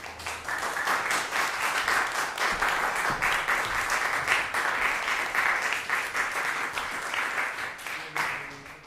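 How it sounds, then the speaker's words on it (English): Sustained audience applause after a session of presenters at a music and philosophy research forum, a steady wash of many hands clapping for about eight seconds before tapering off at the end. "Please join me in applause for all the presenters."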